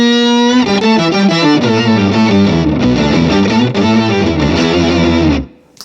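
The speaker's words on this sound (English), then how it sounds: "combine it with fuzz and get a massive sound which sounds like this" Electric guitar run through an octave pedal stacked with fuzz, producing a massive, saturated wall of sustained chords and notes that rings loud and steady before fading out abruptly, with no talking.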